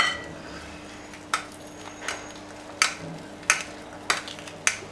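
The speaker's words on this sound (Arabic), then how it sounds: "انا كنفضل ندوزها هنايا في الطاحونه ديال اليد" Boiled potatoes cranked through a hand food mill, a steady rhythm of close metallic clinks and scrapes repeating about every half second against a quiet kitchen background.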